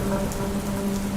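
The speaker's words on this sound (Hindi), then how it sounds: "बाहर सिर्फ बारिश की आवाज गूंज रही थी।" Steady rain falling outside, heard as a dense continuous patter at even volume, with no voices over it.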